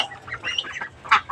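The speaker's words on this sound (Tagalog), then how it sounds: "alagang pato sa kaitik." Pet ducks on a farm quack and honk in a close cluster of short, nasal calls, several overlapping bursts with a louder one near the end, heard alone without talk.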